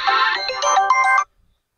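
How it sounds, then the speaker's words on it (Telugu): A mobile phone ringtone plays a loud, bright melodic tune for just over a second, then cuts off abruptly into silence. "ఎవరు రాయుడు పదే పదే ఫోన్ చేస్తుండ్రు?"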